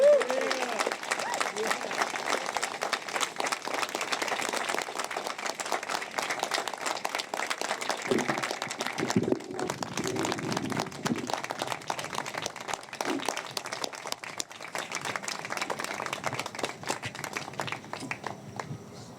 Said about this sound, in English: Let's all give Colin another round of applause.